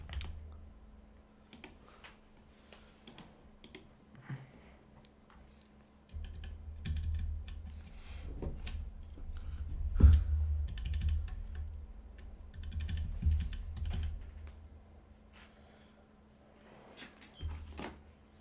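Typing on a homemade computer keyboard, a steady run of clicky keystrokes with short pauses and bursts, close and fairly quiet, with a low hum underneath and no talking.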